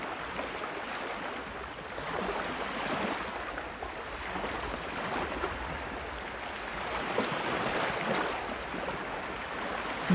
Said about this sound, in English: the cleansing, restoring, soothing sounds of the ocean